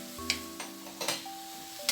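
String beans adobo with vinegar and brown sugar sizzles in a pan while being stirred, with several scraping strokes and soft clinks in an irregular rhythm over a low steady hiss and a faint tonal hum.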